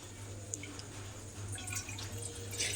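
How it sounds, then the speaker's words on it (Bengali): Water goes into a karahi on a gas stove for oil-free potato curry, a soft steady trickle with scattered drips and splashes over a low background hum. "বেশ কিছুটা আমি এখানে জল দিয়ে দিলাম"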